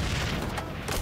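Frag grenade blast in the shooter game XDefiant: a dense, booming low rumble that fills the whole second, loud and close, with no speech over it.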